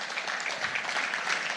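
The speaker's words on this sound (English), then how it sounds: "We have to give them a rousing round of applause." Brief burst of audience applause for students at a book launch anniversary event, a dense, even patter of many hands clapping, moderately loud and steady.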